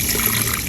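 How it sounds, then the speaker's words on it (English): Water pours steadily onto garden plants in a brief, close, continuous splashing rush with no pauses and no voices. "I am being generous with the water"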